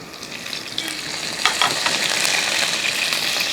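Urad dal, dried red chillies and curry leaves sizzle steadily in hot oil as a spoon stirs the pan, with a constant bright crackle and light scraping.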